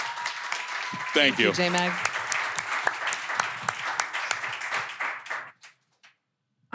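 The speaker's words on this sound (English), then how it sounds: "So can we just give them a round of applause for that?" Audience applause after a podcast taping, a dense round of clapping that runs for several seconds with a voice speaking briefly over it, then fading to near silence.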